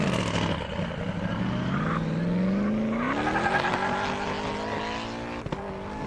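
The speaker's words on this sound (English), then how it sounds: "Oh, that's that fast Corvette." A Pro Speed Corvette launches at a half-mile airstrip drag racing event. Its engine note climbs steadily through the gears in a loud, sustained roar, with crowd and track ambience behind it.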